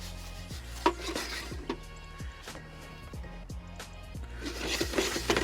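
Rice kernels toasting in an electric pot are stirred with a utensil, making soft scraping and repeated light clinks against the vessel in an irregular rhythm, close and fairly quiet.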